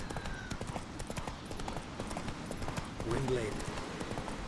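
Roach, the horse in The Witcher 3: Wild Hunt, gallops with rapid rhythmic hoof clip-clops over wind and game ambience, while a character speaks briefly.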